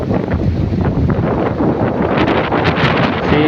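Strong wind buffeting the microphone by the sea, with rain in gusty conditions, a loud continuous roar with rustling bursts throughout.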